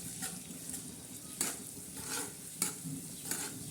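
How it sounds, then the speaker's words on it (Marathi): Mustard-seed tempering for a lemon and green chilli pickle, sizzling in a pan as a spoon stirs it, with a few sharp scrapes and clinks of the utensil over a steady close crackle. "तडक्याला चांगला मस्त असा हलवून घेणार आहोत"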